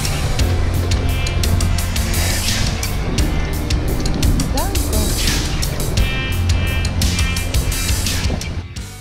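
Cars in heavy, chaotic city traffic pass close around a cyclist riding between them, a steady broadband road rumble with engine drones throughout, while someone talks over it.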